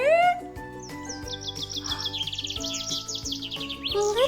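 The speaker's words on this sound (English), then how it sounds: "Look who came to visit! Hi, little bird!" A little bird chirps in a children's learning show, a quick run of bright repeated tweets riding over cheerful background music.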